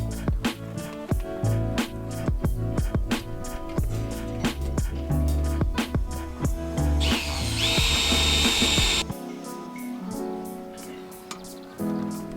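A power drill bores holes into a metal solar panel frame, with repeated sharp bursts, clicks and grinding whines. It is close and loud, with a short high-pitched screech near the end.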